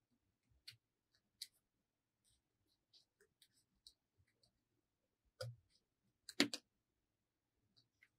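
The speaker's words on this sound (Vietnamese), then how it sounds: "Bây giờ mình sẽ cắt các cái hình tròn này ra." Scissors snip small circles out of blue craft paper in sparse, quiet cuts, single snips scattered among brief pauses and a few quick clustered ones, with no talking.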